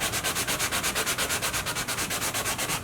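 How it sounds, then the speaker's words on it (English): Worn leather being sanded smooth over a filler repair, quick rhythmic back-and-forth rasping strokes at an even pace, close and steady with no talking. "we're going to sand over this, make sure it's smooth"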